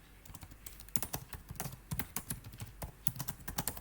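Rapid typing on a computer keyboard, a dense irregular patter of crisp key clicks with brief pauses, close and clear with no talking.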